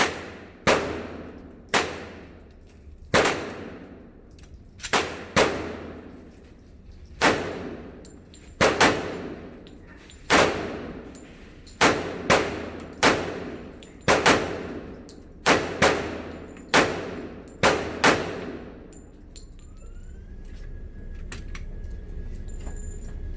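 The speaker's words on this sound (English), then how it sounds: "You could still shoot the gun while it blocks out the sound" Gunshots from a handgun at a shooting range ring out in a rapid, irregular series of about twenty sharp, loud cracks with short reverberant tails, ending in a steady ambient hum.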